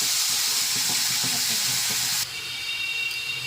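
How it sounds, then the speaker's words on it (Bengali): Onion paste fries in oil in a wok with a loud, dense hiss that drops abruptly to a softer sizzle partway through. "তো এবার আমি কড়াইয়ে দিয়ে দিচ্ছি পেঁয়াজ বাটা।"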